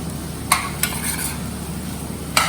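Corn flour being stirred into a pasta sauce in a pan, with a soft steady simmering hiss and a few sharp spoon clinks against the pan, no talking.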